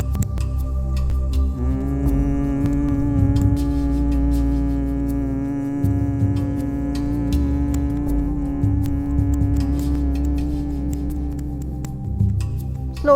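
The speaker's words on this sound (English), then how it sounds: "Slowly you have to exhale with humming bee sound." A steady, low droning hum holds for many seconds on one pitch, a continuous buzzing exhale of humming bee breath (Bhramari pranayama) with no talking over it.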